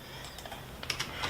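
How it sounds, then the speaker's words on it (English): A computer keyboard gives a short burst of close, fairly quiet keystrokes, with several quick clicks clustered near the end. "So let's just type that in."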